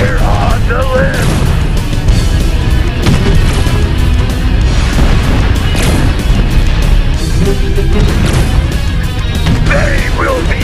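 Artillery fire during a battle in the Art of War mobile strategy game, dense overlapping booms and crashes forming a continuous loud barrage, with brief voiced game announcements mixed in.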